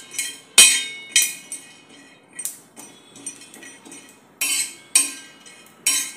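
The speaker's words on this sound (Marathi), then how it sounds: "आता यामध्ये आपण डाळवं घालून घेऊया। डाळवंही मिनिटभर ते रोस्टच आहे, पण आपण मिनिटभर जरा भाजून घेऊया।" Roasted chickpeas (dalwa) dry-roast in a pan while being stirred. Repeated crisp rattling bursts and clinks come as the hard chickpeas are scraped and tossed against the metal, separated by short pauses, with no voices.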